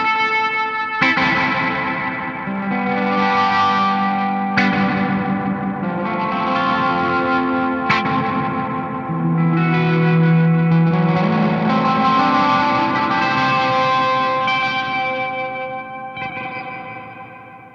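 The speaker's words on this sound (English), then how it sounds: "just that is a lovely sounding reverb" A bright reverb from an effects pedal washes over sustained guitar chords, long shimmering tails blending each note into the next, loud and unbroken with no voices.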